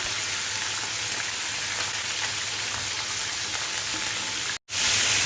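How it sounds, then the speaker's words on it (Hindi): Goat liver browning in a pan on a tawa for mutton liver fry, a steady close hiss of sizzling oil throughout with a brief dropout near the end. "अब मैं इस कलेजी को ब्राउन करूंगी"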